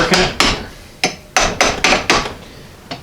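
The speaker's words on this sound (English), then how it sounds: "I've been tapping them with this plastic hammer back and forth like this" A plastic hammer taps a seized slider in a Ford AA Doodlebug dual transmission under restoration, seven or eight sharp, close knocks in an uneven back-and-forth rhythm.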